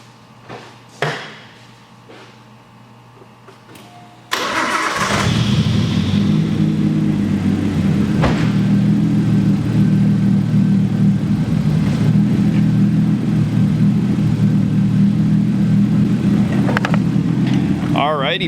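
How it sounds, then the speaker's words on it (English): A few quiet knocks, then an RB20 engine swapped into a Nissan S13 cranks and catches abruptly, settling into a steady, rumbling idle close by. "the car is running now. So I'm gonna start it up for you guys so you can listen."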